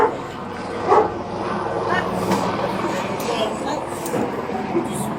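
A police K-9 dog barks amid a tense outdoor arrest, its yips and barks mixed into a busy background of shouting voices and general commotion, moderately loud and not far off.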